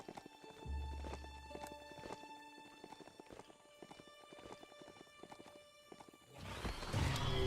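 A goat mount gallops in the Biomutant video game, its hoofbeats running in a quick, steady rhythm under game music and effects, with a louder rumble at the end.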